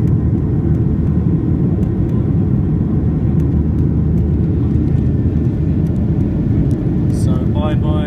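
Steady, loud roar inside the cabin of a Ryanair Boeing 737-8AS climbing out of Gothenburg Landvetter with flaps retracted, a constant engine rumble with faint whir throughout, ending in a short burst of higher-pitched sound.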